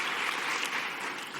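Convention audience applause, a dense, even wash of many hands clapping at moderate distance, steady throughout with no voices over it.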